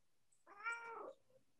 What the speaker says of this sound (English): Somebody's got a cat.